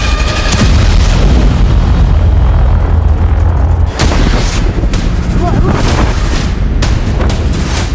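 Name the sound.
explosion at Beirut port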